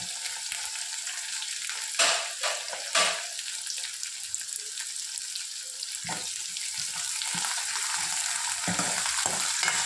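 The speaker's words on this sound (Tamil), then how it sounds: "இது கொஞ்சம் வதங்கட்டும்" Onions sautéing in a pan for a Tamil vada narayanam kulambu, with a steady close sizzle and frying crackle throughout and a few louder stirring scrapes, no one talking.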